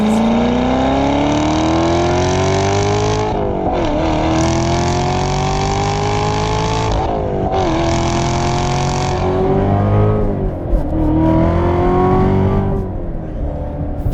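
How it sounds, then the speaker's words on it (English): A 700 hp Corvette Z06 with a supercharged 6.2-liter V8 accelerates hard with tires spinning, its loud, close engine wailing upward through three rising pulls separated by brief gear-change dips. "I'm just spinning tires the whole way through first and second."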